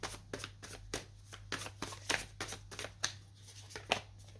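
Tarot cards are shuffled and set down in a quick, irregular run of soft snaps and slaps, close and quiet, with a low steady hum beneath and no talking.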